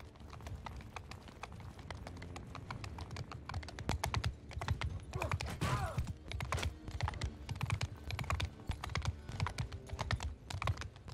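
Rapid hoofbeats of horses patter in a fast, galloping rhythm in the video game Mount & Blade II: Bannerlord, fairly soft and continuous, with game-like clatter throughout.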